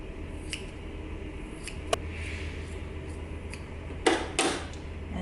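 Scissors trimming fabric seam allowance on a sewn dress, a few quiet snips and cloth rustles, with two sharper cuts near the end over a low steady room hum.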